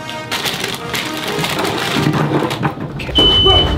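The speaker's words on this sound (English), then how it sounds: "The fire alarm is leading me believe there's something happening here" A high, steady fire alarm tone sounds near the end, cutting through constant crackling and sizzling noise of Thanksgiving dinner cooking.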